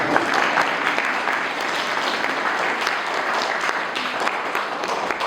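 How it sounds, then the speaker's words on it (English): Audience applause at an interactive Bhagavad Gita chanting session: dense, steady clapping from a crowd that stays loud and unbroken throughout. "Give it a very nice clap."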